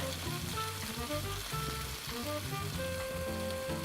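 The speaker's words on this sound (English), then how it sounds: "Now we're going to add the shrimp." Shrimp hit hot oil in a pan over medium-high heat, giving a dense, steady sizzle with crackling pops that stays close and loud throughout.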